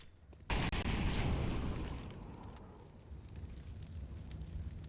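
A grenade blast in Counter-Strike on the Dust2 map, erupting suddenly after a brief quiet into a loud, roaring burst that rumbles and slowly decays into a lingering, crackling tail.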